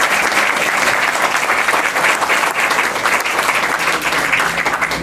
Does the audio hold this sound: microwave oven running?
no